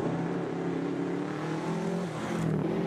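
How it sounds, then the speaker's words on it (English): A Subaru WRX rally car engine drones steadily at a rally sprint, a sustained rough mid-distance note that shifts slightly in pitch toward the end. "They're very quick, these WRX Subarus, very distinct note to them."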